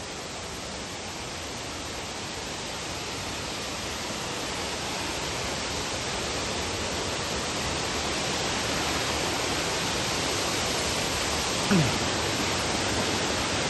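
Penchalakona waterfall roars as a steady, dense wash of falling water close by, unbroken across the whole stretch with only a faint tick near the end.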